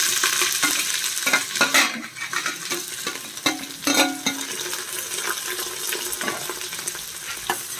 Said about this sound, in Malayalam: അതുകൊണ്ട് നമ്മൾ ഞാനത് സവാള ഇട്ട് കൊടുക്കാം.